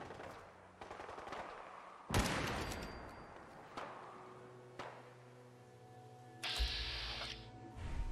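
Gunfire in Fallout 4: scattered loud shots and short automatic bursts at irregular intervals, some crisp and close, others more distant, with a brief higher mechanical whine near the end and no talking.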